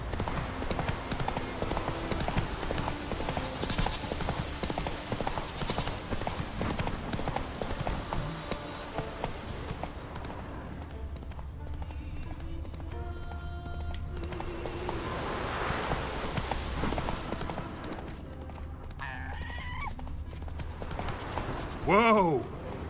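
Horse hooves clip-clopping in The Witcher 3, a steady galloping rhythm under game music and ambience while someone talks over much of it, ending with a loud horse whinny.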